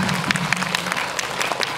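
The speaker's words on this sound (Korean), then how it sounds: "박수." An audience at a Korean film special screening talk event in a cinema hall breaks into applause, a steady wash of many hands clapping, fairly close and continuous for the short span.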